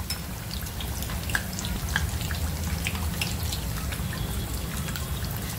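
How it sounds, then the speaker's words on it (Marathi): Oil spooned into a hot pan sizzles steadily while frying ulta vada pav bread pieces, a continuous close crackle with scattered sharp pops throughout. "चमच्यानं तेल घालते मी यामध्ये."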